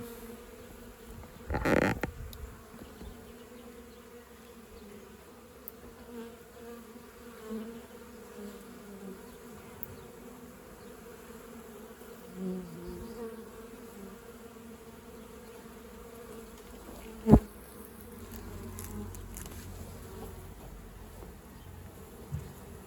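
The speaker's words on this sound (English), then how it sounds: "that's just the bees coming back" Soft, steady buzzing of honey bee foragers returning to a hive, faint and continuous with a few louder passes and knocks, no voices.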